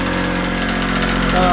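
A bench grinder with re-dressed wheels hums steadily, loud and close, for a brief moment, with a voice talking over it.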